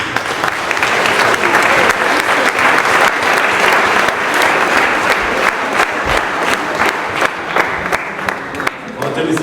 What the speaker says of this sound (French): Merci à vous, vous pouvez l'applaudir.